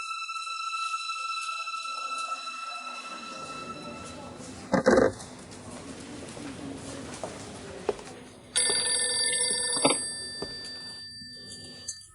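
A telephone rings with repeated electronic ringing tones, close and clear, while people speak over it and a dog whimpers and barks in the same room.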